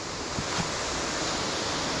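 A waterfall near Askrigg gives a steady, even rush of falling water, a dense, unbroken hiss that holds at the same level throughout with no voices.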